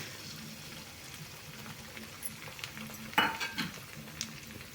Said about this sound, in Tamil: 2 முட்டை ஊற்றிக்கிறேன்